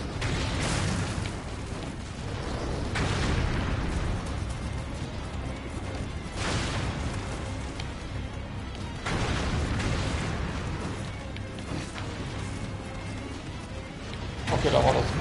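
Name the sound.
cannon explosions in the video game Nioh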